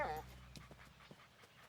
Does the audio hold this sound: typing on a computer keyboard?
no